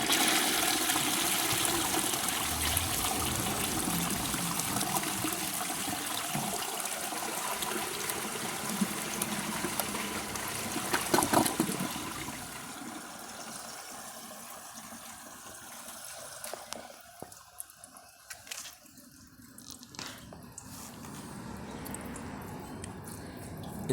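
A 1945 Kohler toilet flushing a washcloth, a loud rushing gush of water that swirls and drains, then fades into trickling and gurgling refill sounds, with no talk.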